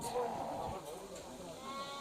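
Sheep bleat at a crowded livestock market. The calls are brief and mid-distance, mixed with background chatter and voices.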